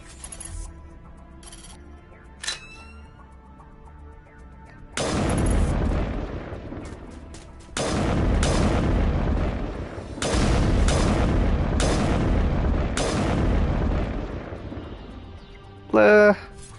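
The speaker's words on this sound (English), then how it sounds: "good time to test out the new sniper rifle mod. Those high explosive rounds." Sniper rifle firing high explosive rounds in Mass Effect Remastered, with several heavy booming blasts spaced a few seconds apart, loud and sustained.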